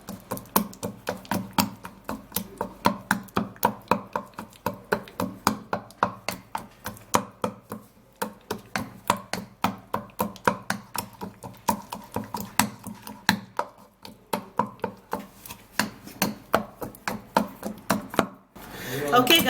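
A banana being mashed and chopped with rapid, steady knocking strikes against a surface, dense rhythmic taps continuing for most of the time with a brief pause near the middle, close and fairly loud.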